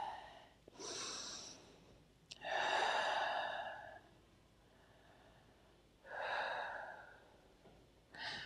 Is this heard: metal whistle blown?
no